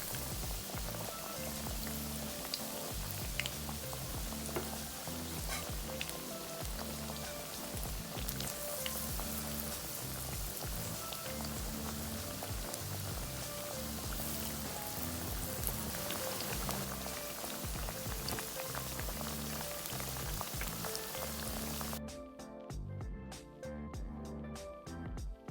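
Banana pieces for Thai kluay tod deep fry in hot oil. A dense, continuous sizzle and crackle stays loud and even throughout, then thins out slightly near the end.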